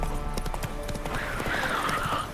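Roach, Geralt's horse in The Witcher 3, trots with steady close hoofbeats over a continuous game ambience, while a faint rising tone drifts behind the clip-clop.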